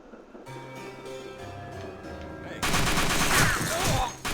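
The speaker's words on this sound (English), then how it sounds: "Now I'm gonna get shot at by some people here, right? And I'm just gonna be very bad and walk right into all the bullets." Gunfire aimed at the player in TimeSplitters 2 Redux: a quiet stretch of game tones gives way to a sudden loud, sustained barrage of shots lasting until the end.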